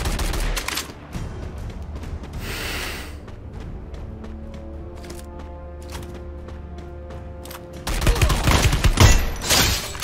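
SKS rifle fire in the Free Fire battle royale game, a burst of sharp shots at the start, then a tonal lull, then a dense, loud volley of shots near the end, with no voices.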